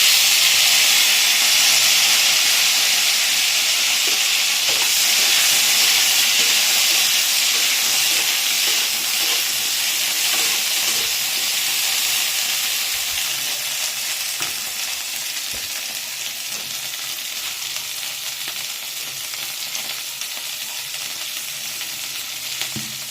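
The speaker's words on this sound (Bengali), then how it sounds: "এবার ফুলকপিগুলো ভেজে নেবো এই তেলেতে।" Cauliflower florets fry in hot oil with a bit of turmeric in a pan, giving a loud, steady, close sizzle that eases slightly in intensity over time, with occasional stirring clinks.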